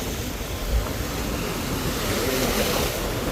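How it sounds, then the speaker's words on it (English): Ocean surf rolls in as a steady, broad wash with whitecaps on the water near Toogoom, loud and continuous with a slight swell partway through, no talking. "Why does it be so wavy? It's white capping like crazy."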